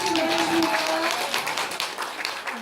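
Audience applause breaking out at a year-end church service award ceremony as a merit prize is presented, a steady wash of many hands clapping throughout, with a brief sustained tone early on.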